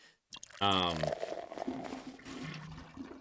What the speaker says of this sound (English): just hearing the nonstop bathroom flushing is hilarious